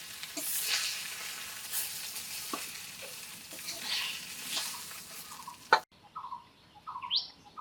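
Koi fish fry in hot oil with a close, crackling sizzle that swells and fades for several seconds, then stops abruptly as faint bird chirps take over.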